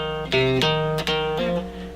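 A short electric guitar riff from a rock song, palm-muted: a few clipped notes played close and clear with no talking.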